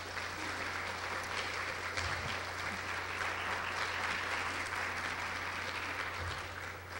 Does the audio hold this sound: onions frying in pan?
no